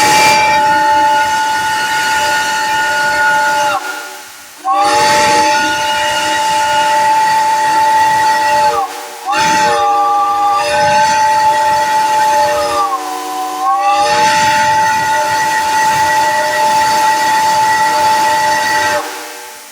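A Southern Railway steam whistle blows at a whistle blow in Ravenna, Kentucky, in three long, loud chime blasts with brief gaps and a steady hiss of steam underneath.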